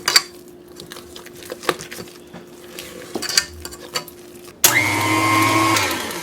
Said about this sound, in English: I'm going to scrape the sides with my spatula to make sure everything gets combined from the bottom